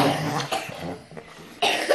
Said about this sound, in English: she's got a nasty cough